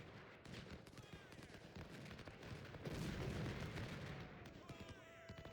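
Cannon and musket fire in Ultimate General: Civil War, a dense crackling fusillade of distant shots and booms rumbling continuously, swelling in the middle of the battle.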